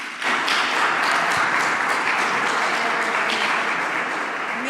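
Warm audience applause at a workplace wellbeing forum, a sustained, even roar of many hands clapping that starts abruptly and holds steady throughout, fairly close and full.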